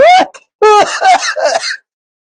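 A voice produces a few short throaty bursts like clearing the throat and coughing, separated by brief pauses, close and fairly loud.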